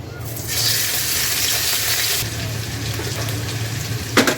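Onion paste goes into hot oil in a pan, giving a steady hiss and sizzle that runs throughout. A sharper clatter comes near the end.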